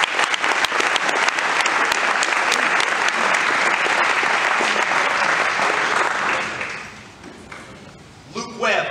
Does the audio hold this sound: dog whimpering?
no